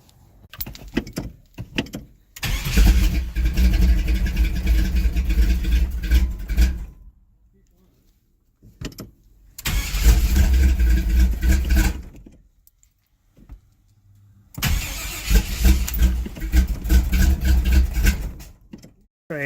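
A Vortec 350 V8 swapped into a GMC S15 pickup is cranked over in three long, loud bursts with short pauses between, the starter grinding steadily without the engine catching.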